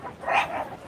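A single short dog bark rings out at Waikiki Beach, one sharp yelp at moderate distance over a quiet outdoor background.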